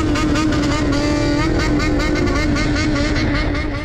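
A large group of bosozoku motorcycles revs loudly and continuously on a Japanese expressway, a dense roaring drone of rising and falling engine pitches with wind rush, close and unbroken.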